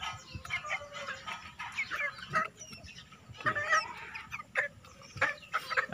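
A pet hen wearing a sweater clucks repeatedly and busily close by, with irregular bursts of clucks and scratchy movement noises and no talking.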